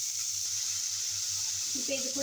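Chopped onion sizzles in a hot pan while making sundal, a Tamil evening snack, with a steady frying hiss and a brief stir near the end.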